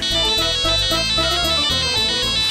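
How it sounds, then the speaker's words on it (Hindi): A loud electronic phone ringtone plays a repeating melodic pattern of bright tones, steady and close, with no voices. "फोन गलते टाइम पे आता है"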